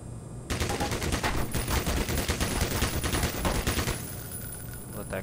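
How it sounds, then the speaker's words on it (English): Sentry guns in the game Black Mesa rattle off a rapid, continuous stream of automatic fire for several seconds, loud and close, after a brief quiet start. "You gotta watch out for those sentry guns."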